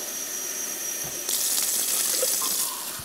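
Water runs from a tap into a pot of brown rice, a steady faucet stream that grows louder and fuller partway through, close and clear.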